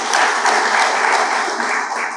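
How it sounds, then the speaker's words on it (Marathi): A lecture audience breaks into loud, dense applause, many hands clapping steadily for about two seconds before easing slightly at the end. "त्यांच्यासाठी जोरदार टाळ्या होऊन जाऊन देत."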